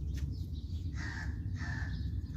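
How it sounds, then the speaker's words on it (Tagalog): Crow cawing outside a house, two drawn-out harsh calls from some distance over a steady low background rumble, no talking. "May uwak pa oh."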